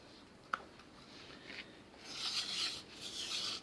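A wooden spindle rubs against a wooden fire board in a primitive friction fire, making a soft, close scraping hiss that swells toward the end after one faint tap near the start.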